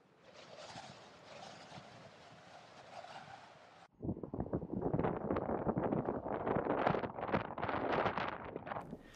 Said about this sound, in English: And the wind's kicking up too